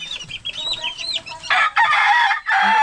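Hens clucking and a rooster crowing nearby, with a loud burst of squawking fowl in the second half, fairly close and continuous.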